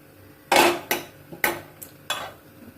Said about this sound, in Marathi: याच्यात मी आता थोडं तेल घालणार आहे आणि 1 चमचाभर तूप घालणार आहे